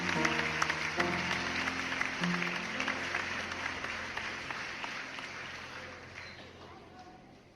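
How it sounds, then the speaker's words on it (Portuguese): A crowd applauds in a dense, continuous patter that starts loud and gradually fades away, with a voice briefly heard at the start. "Por favor, deem uma salva de palmas para ele merece."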